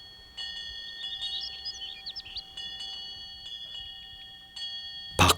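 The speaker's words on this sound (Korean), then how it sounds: "밖은 새소리로 가득하건만" Birds chirp and sing in quick, high twittering phrases outside Songgwangsa, a Korean Buddhist temple, over a quiet outdoor background, with a sharp louder knock or clatter at the very end.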